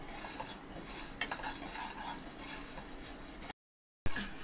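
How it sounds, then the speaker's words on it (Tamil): White sesame seeds dry-roast in a pan with soft rustling and light clinks of a spoon stirring against metal, quiet and close, ending in a brief silence before the stirring returns. "இப்போ வெள்ளை எள்ளை வறுத்துக்கலாம்."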